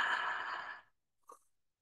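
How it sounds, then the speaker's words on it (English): A single voice breathes out the Hebrew divine name YHWH as soft aspirated consonants with no vowels, one long airy exhalation followed by a brief, fainter breathy puff, close and quiet. "the letters YHWH represent breathing sounds or aspirated consonants"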